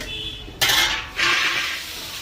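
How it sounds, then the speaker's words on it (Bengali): A metal lid lifted off a cooking pot on a gas stove: two bright clattering clanks in close succession, followed by a lingering metallic ring and steam hiss, recorded up close. "আমি ঢাকনাটা খুলে দেবো।"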